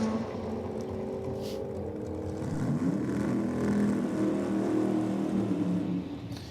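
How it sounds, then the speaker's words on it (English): Engine drone from a Mitsubishi Lancer and a wagon launching in a drag race, a steady mid-distance roar that rises and swells as the cars pull away. "we've got another Mitsubishi Lancer out here in the Rocket lane"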